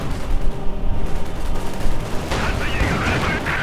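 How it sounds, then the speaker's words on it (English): Field guns in Company of Heroes 2 fire in a rapid string of booming blasts with crackling gunfire over a busy battle, and a voice talks over the action. "Field guns blasting away."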